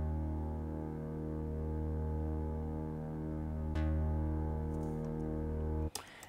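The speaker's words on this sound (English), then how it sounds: "This is a pretty straight up bass. It's also an ES2 under synth leads, funk pulse lead." A straight synth bass layered with an ES2 funk pulse lead, a steady humming, throbbing sustained tone that holds evenly for six seconds, with one brief click midway and an abrupt cutoff near the end.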